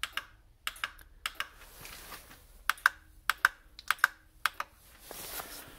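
A Chamberlain, LiftMaster or Craftsman garage door opener clicks as its light button is pressed, giving a close series of a dozen or so crisp, dry clicks in an uneven rhythm over a faint hum.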